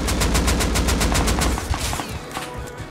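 Rapid automatic gunfire in the survival game Rust, a loud continuous burst of evenly spaced shots that thins into scattered distant shots near the end.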